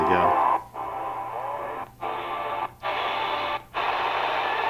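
Shortwave radio reception on a Tecsun PL 330 receiver at night, a steady band of broadcast audio with hiss, broken by four brief dropouts as the tuning shifts, loud and close.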